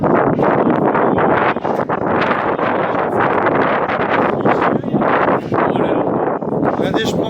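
Strong, cold wind roars constantly against the microphone in Times Square at night, loud and blustery with rushing gusts and no letup.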